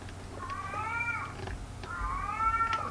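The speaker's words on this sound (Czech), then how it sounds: "Kočka nějaká." A cat meows twice in a horror video game, ERIE, each call a drawn-out, rising-then-falling wail heard clearly over a low droning ambient background.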